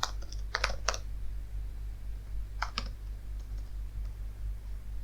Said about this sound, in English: And let's type in, hi, I'm very hungry.